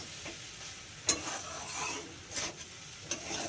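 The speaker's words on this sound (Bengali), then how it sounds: "নাড়াচাড়া করি" Pasta being stirred in a pan with vinegar, a soft sizzle beneath a few scraping strokes of a utensil, faint and close.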